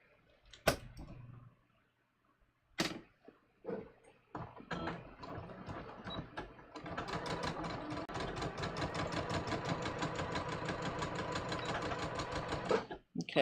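A sewing machine sews garment facings with a half-inch seam. Scattered clicks and short bursts come first, then a long, steady, rapid stitching run that stops near the end.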